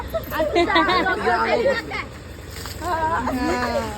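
Ice water splashes and pours during a haldi ceremony amid excited chatter and laughing voices, the splashes mixed under lively crowd talk.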